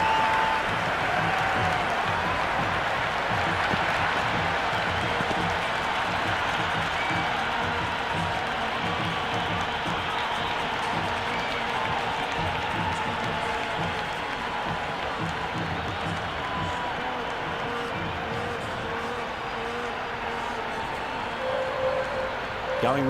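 Crowd applause and cheering from a cricket video game after a six is hit, a steady wall of clapping and crowd noise running throughout with a commentator talking over it.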